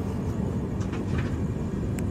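The AP Express, Visakhapatnam to New Delhi train 20805, running past Gopalapatnam station with a steady, loud low rumble and rattle of wheels and coaches, continuous and close throughout.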